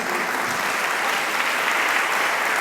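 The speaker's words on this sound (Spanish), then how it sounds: "Denle un aplauso a Dios, es una realidad." A church congregation claps together in a dense, even burst of applause, steady and fairly loud throughout the short stretch with no voices over it.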